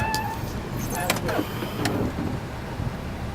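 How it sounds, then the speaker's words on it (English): Power sliding doors on a 2006 Honda Odyssey closing, a close, busy mix of motor whir and mechanical rattling with a couple of sharp clicks as the doors travel shut. "Now to close these doors, all you do is hit these 2 buttons right here, and they both close."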